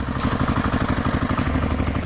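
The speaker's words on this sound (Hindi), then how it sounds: "कालू, गोरी और माँ तीनों मिलकर बैंगन के खेत पे ट्रैक्टर चलाते हैं" A cartoon tractor drives across an eggplant field, its engine putting out a steady, throbbing chug with a rattling, clattery edge, heard close and alone for a couple of seconds.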